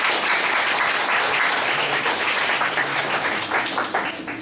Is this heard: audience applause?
yes